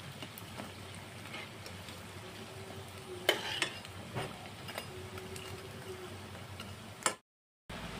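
Potato chops fry gently in oil over a low gas flame, a soft steady sizzle with a few light clicks and taps of a utensil, quiet and close, ending abruptly.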